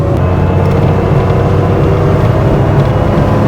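A modified air-cooled Porsche 911 Carrera accelerates in fifth gear, a steady loud engine drone with low rumble holding throughout from close inside the car.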